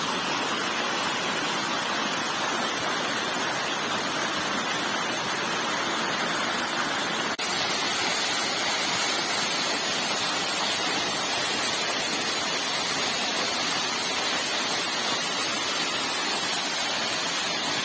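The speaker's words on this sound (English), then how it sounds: "Water is falling onto Chathamangalam Neduvod Road from a height of more than 20 meters." Roadside waterfall in the Chathamangalam hills near Neduvod Road in Kannur district, dropping more than 20 meters, gives a loud, continuous roar of falling water, close and steady, with no voices.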